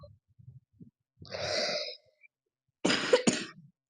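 A couple of isolated coughs near the mic, one drawn-out harsh cough followed after a pause by a sharper double cough, with quiet breathing between.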